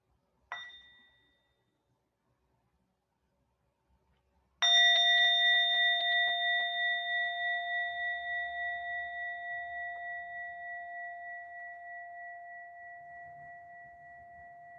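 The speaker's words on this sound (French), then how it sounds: "on va écouter un son cloche" A meditation bell sounds, first with a brief light tap, then with one clear, resonant strike that rings on alone in a quiet room and fades slowly with a gently pulsing shimmer.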